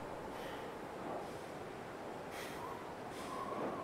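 Wind howling across snowy wilderness in The Long Dark, a steady gusting whoosh with soft surges, faint and continuous with no voices.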